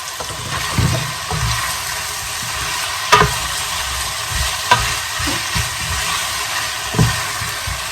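Steady frying sizzle of spinach in a pan, with occasional scraping stirs and a few sharp clinks of a utensil against the pan.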